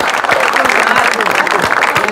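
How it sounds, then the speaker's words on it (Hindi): Audience applause in a television studio, a dense and loud wash of clapping with a faint crowd murmur mixed underneath. "आपकी तालियों में बुलवा रहा हूँ"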